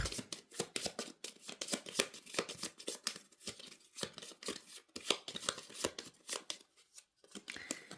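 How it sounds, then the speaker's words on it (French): Tarot cards shuffled by hand and spilling out in all directions, a busy run of crisp riffling and slapping card sounds close up with no talking. "Elles tombent, les cartes."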